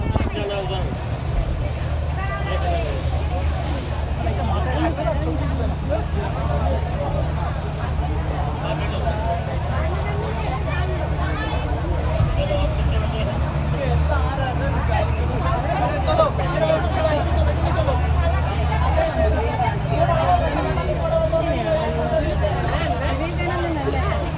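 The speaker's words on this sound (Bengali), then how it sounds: "এইটা বোটে ওঠার লাইন, এই বোটে করে আমাদের ওপারে যেতে হবে" Crowd waiting in line to board the ferry to Vivekananda Rock at Kanyakumari, with a constant low engine rumble and steady babble of many voices close around.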